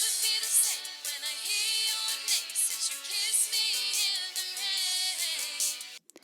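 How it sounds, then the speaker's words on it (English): A mastering harmonics plugin plays only its added harmonics with the dry signal off, leaving a thin, bright, hollow musical wash with no low end that flickers with the music and cuts off abruptly near the end. "allows you to only hear the harmonics that have been added to your mix"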